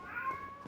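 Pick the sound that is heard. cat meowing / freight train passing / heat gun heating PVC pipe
cat meowing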